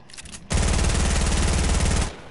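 Sustained automatic gunfire in a shooter video game, a loud continuous burst of rapid shots lasting about one and a half seconds after a quieter lead-in, then cutting off abruptly.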